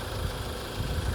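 A classic soft-top Land Rover Defender engine idles steadily after starting, a low continuous rumble with slight pulsing, close by and with no voices.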